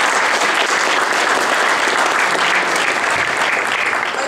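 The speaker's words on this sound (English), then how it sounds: "So give yourselves a round of applause." A crowd at a citizen lobby day gathering on marijuana policy reform breaks into loud, sustained applause, dense clapping filling the room throughout.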